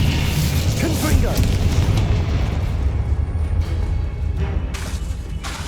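Booming Confringo fire spell blasts in Hogwarts Legacy rumble heavily through a dense combat mix, with loud low bursts, crackling hits and scattered sharper impacts across the stretch.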